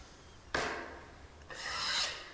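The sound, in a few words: drywall knife cleaning joint compound off internal corner edges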